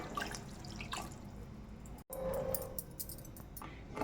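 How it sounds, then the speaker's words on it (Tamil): Steady trickling and dripping of water pouring into a cooking pan of chana gravy, soft and close, with a brief cutout midway. "நல்லா வேகிறதுக்கு கொஞ்சமாக தண்ணி சேர்த்துக்கிறேன்"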